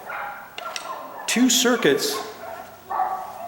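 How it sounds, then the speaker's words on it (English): Several dogs bark outdoors at a home during electrical switch wiring work, a few sharp yips and barks at moderate distance heard under a man's speech. "I got some barking dogs out here."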